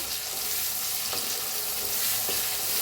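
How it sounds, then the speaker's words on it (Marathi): Finely chopped onion with ginger-garlic paste and a pinch of asafoetida frying in a pan, a dense continuous sizzle with a couple of faint stirring scrapes, close and steady. "त्याच्यात टाकूया कांदा बारीक असा कापून घेतलेला अद्रक लसूणची पेस्ट मिक्स करून भाजून घेऊया"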